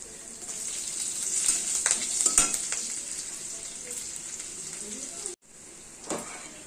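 Spices, crushed ginger and slit green chilies frying in hot oil, a bright steady sizzle with spatula scrapes and taps against the pan, close by, briefly cutting out before the sizzle resumes.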